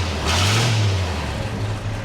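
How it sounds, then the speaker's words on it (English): Flathead V8 engine in a restored tractor turning over and catching, a loud low rumbling idle with a brief rise in revs near the start before settling into a steady, close-up drone. "Tom, this thing got a flathead V8. Would you like to hear it start up?"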